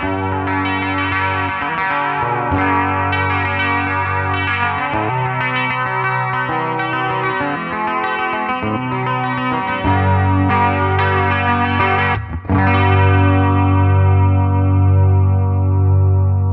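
A heavily distorted Les Paul electric guitar plays a thick, sustained rock riff with chords and lead notes, loud and continuous, ending on a long ringing chord.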